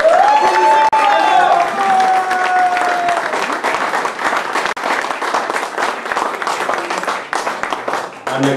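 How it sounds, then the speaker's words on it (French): Party guests at a 30th birthday evening break into sustained, loud applause and cheering, a dense crowd of clapping that continues throughout with voices mixed in. "Je souhaite à mon cher cousin Aïssam qu'on l'applaudit tous."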